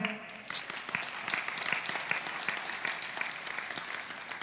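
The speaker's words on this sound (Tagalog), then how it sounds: "Sige nga, pumalakpak tayo." A congregation at a midweek church service breaks into clapping, a brisk, moderately loud round of many hands with some sharper individual claps standing out, continuing steadily to the end.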